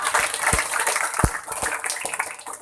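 Audience applause at a religious gathering for a manaqib dhikr recitation of Syekh Abdul Qodir Al Jaelani, a steady broadband clatter of many hands clapping, fairly loud and continuous, with a few low thumps mixed in.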